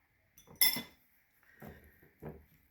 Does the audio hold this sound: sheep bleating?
no